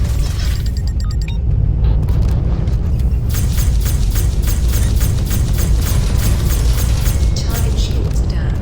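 Space combat in the video game SpaceBourne 2: loud, dense weapons fire and rumbling explosions, with a rapid train of repeated shots pulsing steadily from about three seconds onward over a constant heavy roar.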